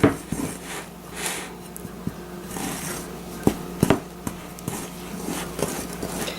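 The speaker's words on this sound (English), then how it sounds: "Let's get this all stirred up here." A spoon works through stiff apple cake batter in a bowl, making close, uneven scraping strokes broken by several sharp clinks against the bowl's side, with no talk.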